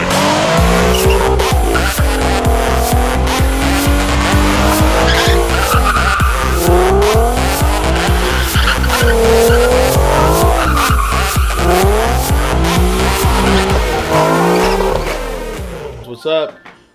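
Mario Kart video game racing plays loudly throughout, with continuous kart engine drone, repeated tire skids and squeals, and game music layered under it.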